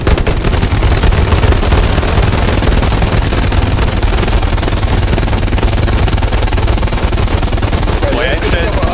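Sustained, dense gunfire rattling continuously for several seconds, loud and close, with rapid bursts blending into a constant roar.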